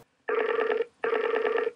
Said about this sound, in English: Oh, it's ringing this time.